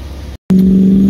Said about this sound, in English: over the sound of that revving engine